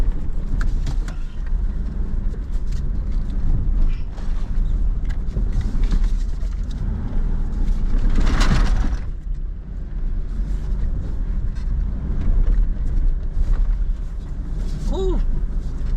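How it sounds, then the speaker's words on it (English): A two-wheel drive truck struggling through mud, its engine droning steadily and loudly close by, with a surge of revving near the middle and wind rumble throughout. "That two-wheel drive is really struggling a little bit here"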